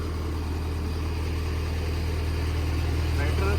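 A steady engine drone runs unbroken at a constant level, low and even like a small generator idling nearby during a power cut on a farm, before cutting off abruptly at the end.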